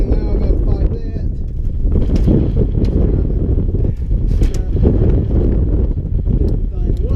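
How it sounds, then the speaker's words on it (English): Strong gusty wind buffets the microphone outdoors beside a John Deere 7610 tractor, a steady roaring rush with swelling surges, with handling knocks and a voice talking over it. "the wind picks up about 10 miles an hour"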